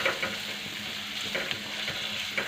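Tomato with a ground paste of ginger, garlic and coconut frying in hot oil, a steady close sizzle with occasional stirring scrapes and pops throughout.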